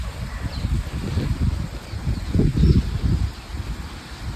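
Wind gusts through swaying plants outdoors in a steady low rush, with a stronger burst midway and faint rustling above it.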